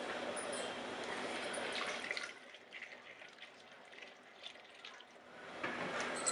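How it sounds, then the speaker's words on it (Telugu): Water poured from above into a kadai holding shark pieces for a shark curry, a steady splashing stream that eases off midway and swells again near the end, with no talk. "వాటర్ వేసి"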